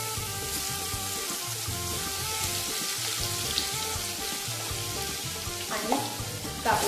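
Garlic and asafoetida fry in hot oil in a pan, making a steady close hiss that continues throughout, with a brief stirring scrape near the end.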